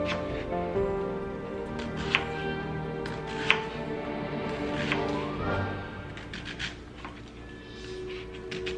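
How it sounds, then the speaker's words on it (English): An onion is chopped on a cutting board for a birria burrito, heard as a few sharp knife taps and scraping amid background music, with no talking. "Next, we're going to chop our onion."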